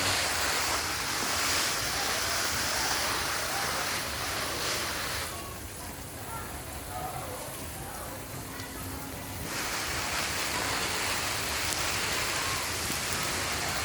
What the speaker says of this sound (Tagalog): dapat po yung ating pandilig mga ganito lang sprinkler talaga para parang ulan yung nare-receive na tubig ng mga halaman